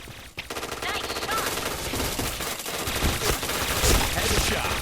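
APC9 submachine gun in the shooter game Point Blank, firing rapid continuous bursts nearly nonstop for several seconds, loud and up close, with game sounds mixed in.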